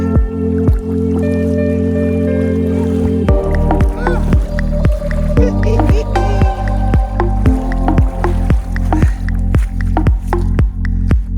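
Hikers on the Oregon Coast Trail wade through shallow ocean water with backpacks, making close, rhythmic splashing steps and squelches with dripping water between them.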